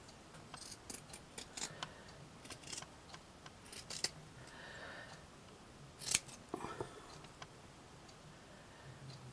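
Scissors snip through a craft piece for a handmade shabby chic swan and pink bow decoration, giving a series of quiet, close, crisp cuts with short pauses between them and no talking.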